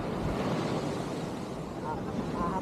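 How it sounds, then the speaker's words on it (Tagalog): Ocean waves surge and wash onto a beach in a steady, broad roar with wind buffeting the microphone, and faint voices murmur underneath. "hindi ka hampasin ng alon"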